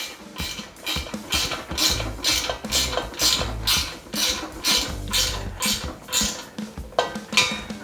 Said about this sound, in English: a ratcheting 10mm from the back, we can tighten down